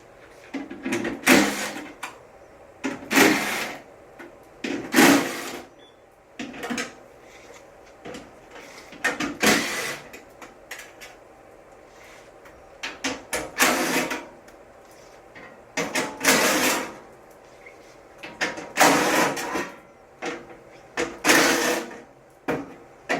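A pneumatic impact gun zaps 10mm bolts off the case of a 2010-2015 Toyota Prius hybrid battery, loud repeated rattling bursts of a second or two each, spaced evenly with quieter gaps between them.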